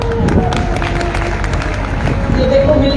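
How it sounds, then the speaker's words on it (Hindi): An audience claps together at a Vedic Shri Ram Katha gathering in an orphanage. The dense, steady applause lasts throughout at moderate loudness, with faint voices mixed in. "लड्डू के लिए ताली बजाओ।"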